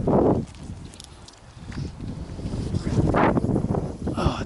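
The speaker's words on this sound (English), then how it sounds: "Oh, dang wind." Gusty wind blows outdoors by a lake, buffeting the microphone in broad rumbling waves that rise and fall, loudest at the start and again near the end, with no other sound standing out.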